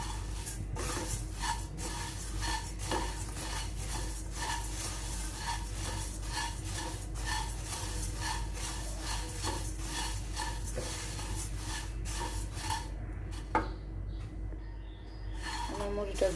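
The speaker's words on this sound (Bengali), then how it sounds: "জাস্ট একটু মুড়িটা গরম করে নিব যেন মচমচা হয়।" Puffed rice being dry-roasted in a pan, with a continuous scraping and rustling stir and repeated light clinks of a utensil against the metal, steady and close throughout, fading quieter near the end.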